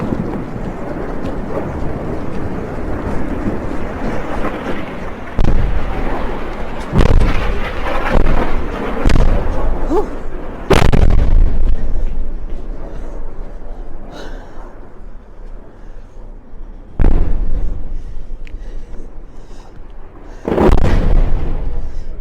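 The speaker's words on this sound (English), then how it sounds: "We can hear the sudden rocket attacks right now" Rocket attacks and Iron Dome interceptions near the Gaza border: about five sharp, heavy booms land at irregular intervals, loud and fairly close, over constant wind rumble and murmuring background noise.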